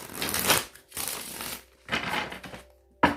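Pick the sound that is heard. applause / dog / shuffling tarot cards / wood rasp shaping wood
shuffling tarot cards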